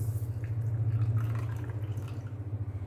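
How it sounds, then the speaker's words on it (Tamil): Half a cup of water is poured onto gelatin powder in a homemade jelly recipe, a soft, close, continuous trickling pour over a low background hum. "1/2 கப் தண்ணி ஊற்றி"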